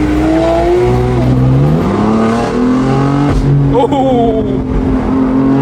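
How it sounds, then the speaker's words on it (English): A Porsche 911 engine revs hard while driving, its pitch climbing through gears and dropping between shifts, loud and close, with a short exclamation from someone inside. "And now in today's video we're driving the Porsche 911."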